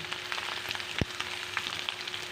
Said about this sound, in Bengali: এই সবজিটাকে আমি এ তেলের ভিতরে বেজে নেব